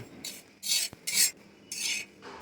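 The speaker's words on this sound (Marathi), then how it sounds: "आता मी तांदूळ भाजून घेते" Rice is dry-roasted in a pan while being stirred, making four bursts of dry rustling scrapes separated by short pauses, with one sharp tap of the spoon against the pan.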